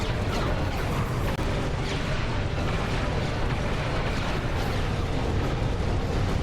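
Missile explosions from the Ratchet and Clank: Going Commando video game, a dense, continuous rumble of blasts and booms filling the whole stretch with no clear gaps.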